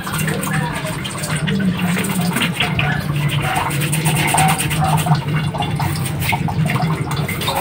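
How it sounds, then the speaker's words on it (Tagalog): Steady, close scrubbing with a toothbrush and no soap, a continuous bristly brushing rasp with water noise, running without a break throughout. "lilinisin natin para toothbrush lang, ayos na kahit walang sabon"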